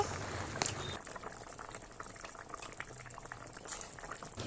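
Rohu fish curry bubbles gently in a pot over low heat, a soft, steady simmer with small liquid pops, heard close and quiet without talk.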